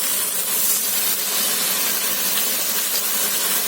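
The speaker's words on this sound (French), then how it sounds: "Et là, on va venir déglacer avec le vin blanc, messieurs, dames." White wine hitting a hot pan of artichokes à la barigoule, sizzling and hissing steadily and loudly for the whole stretch, close up with no talk.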